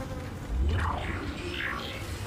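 Flies buzz inside the space-station setting of the video game Dead Space, a soft insect drone with wavering harmonic sweeps, moderately near and continuous over a low ambient rumble.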